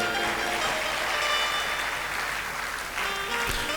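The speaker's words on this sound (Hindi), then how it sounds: "तो तालियां मरी मराई क्यों बजा रहे हैं?" Sustained, diffuse applause from an audience at a Hindu religious discourse, a dense but flat wash of clapping that fades slightly near the end.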